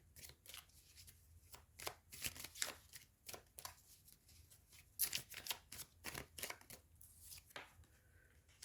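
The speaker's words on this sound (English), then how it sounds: "let's go ahead and get the three final cards here." Tarot cards being shuffled and drawn: a quick series of soft, crisp riffles and flicks in irregular bursts, close and quiet, with no talk.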